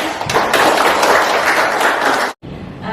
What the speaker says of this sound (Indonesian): Kita kasih aplaus lagi buat Ibu.